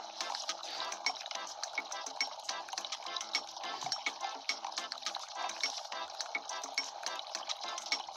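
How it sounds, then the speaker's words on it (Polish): A drink is poured in the Papa's Mocharia To Go video game as a steady, bright stream of liquid with quick dripping and bubbling ticks running throughout, alone and fairly faint. "W tym samym momencie zacząłem nalewanie"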